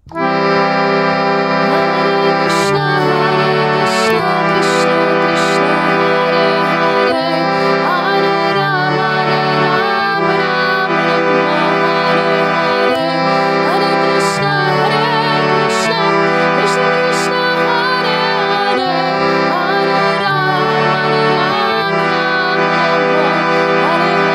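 A harmonium plays a fast, steady kirtan melody, the Kadamba Kanana Swami tune, over three repeating chords, loud and continuous with rhythmic chord changes throughout and no voices.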